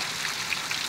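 Heavy rain falls in Rio Grande do Norte, Brazil, a steady, even hiss of downpour with no voices over it.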